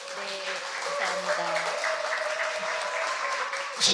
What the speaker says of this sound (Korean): 감사드린다는 박수 좀 부탁드리겠습니다